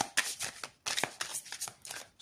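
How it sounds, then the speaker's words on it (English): A deck of tarot cards is shuffled up close in quick riffling bursts, each separated by a short pause. "I'm shuffling cards only once for everything, and for love, and for career"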